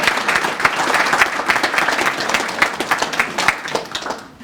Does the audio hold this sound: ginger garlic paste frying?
no